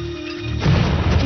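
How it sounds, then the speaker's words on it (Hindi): A deep, heavy boom erupts midway in an action war movie, a loud low explosion rumbling on after a quieter lead-in. "धमाके की पूरी तैयारी हो गई है सर।"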